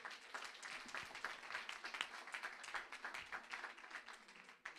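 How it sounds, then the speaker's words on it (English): A faint, steady round of applause from an audience at a Coral Gables commission candidates' election debate, with dense, continuous clapping from many hands, distant and quiet, and no talk over it. "can you please all give yourself a round of applause?"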